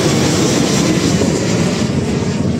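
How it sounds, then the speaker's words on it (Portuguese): Airplane passing overhead, a steady loud broadband roar of engine and air rush that holds level throughout with no talk. "Deu pra ver o avião, hein? Que loucura."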